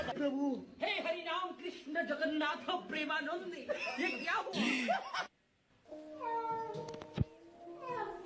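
A cat meows in a series of short, wavering calls, fairly close and clear, with a brief silence before a few more meows; human chuckling or laughter mixes in.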